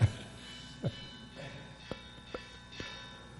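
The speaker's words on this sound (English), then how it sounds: "That's the lunch bell." A lunch bell is struck in a slow, even series of about six faint, distant strikes, each leaving a short ring over a quiet room hum.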